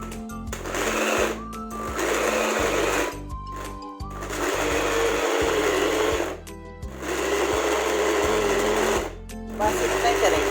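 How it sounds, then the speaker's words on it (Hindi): An electric chopper grinding raw chicken in a kitchen: a loud whirring motor running in several bursts, with short pauses between pulses. "ये चिकन अब हम चॉपर में डाल के इसे हल्का सा हम पीस लेंगे।"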